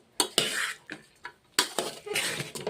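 A spoon stirs and scrapes pulihora, tamarind rice, in a metal pot, making a series of sharp, irregular clanks and scraping strokes close by, with no talk.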